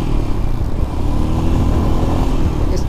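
A motorbike worth nine lakh rupees rides fast, its engine a loud, steady roar with rumbling low end held close for the whole stretch, no voices over it.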